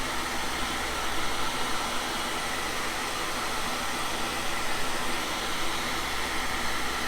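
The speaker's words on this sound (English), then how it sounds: "Let me see if I can get this vacuum cleaner a little bit closer there." A vacuum cleaner runs at close range in a machine shop during carbide tool making, giving a loud, steady broadband roar that holds without change throughout.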